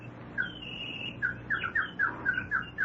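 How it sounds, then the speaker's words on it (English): An African horned lapwing's call, used as a sound effect in a birdwatching scene of an old-time radio comedy: a long high squawk followed by a rapid series of short, shrill, repeated calls over a low murmuring background. "That's the African horned lapwing."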